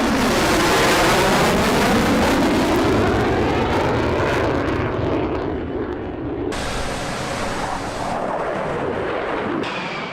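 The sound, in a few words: F-16 fighter jet flying overhead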